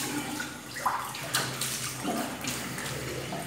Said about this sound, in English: Rinse your face.